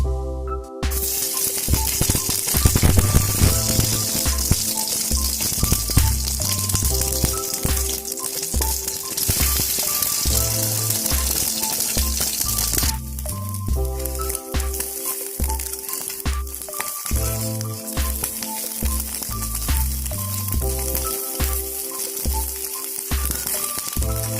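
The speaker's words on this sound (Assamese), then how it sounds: "এতিয়া ইয়াত কাটি থোৱা কণীখিনি দি 1-2 মিনিটমান ভাজি ল'ম।" Steady, loud sizzling and crackling of cut eggs frying in hot oil, with scraping and clinking of a utensil stirring in a pan throughout.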